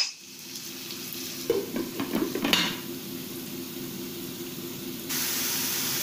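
Eggplant fries in a pan while being stirred, giving a steady close sizzle with a cluster of scraping, clattering stirring strokes in the middle and the hiss rising brighter near the end.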